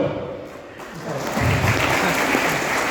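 An audience at a stage mimicry show claps for about three seconds, the applause building into a dense, steady patter partway through.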